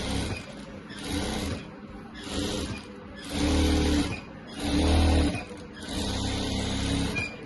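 A sewing machine stitches a kurti for a Rajputi outfit in steady whirring bursts, several runs of machine hum rising and falling across the stretch, close and loud with no talk.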